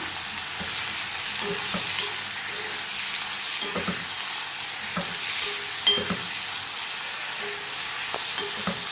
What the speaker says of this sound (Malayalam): നല്ല പോലെ ഫ്രൈ ആവണം കേട്ടോ.